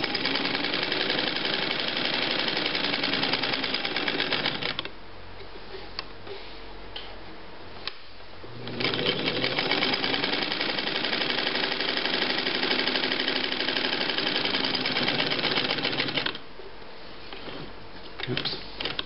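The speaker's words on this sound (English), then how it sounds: "even though this machine is 60 some years old, 60 years old, it still sews perfectly well" A sixty-year-old Domestic Rotary model 153 sewing machine runs in steady stretches of rapid, even ticking and whirring, pausing briefly twice before starting again, close and fairly loud.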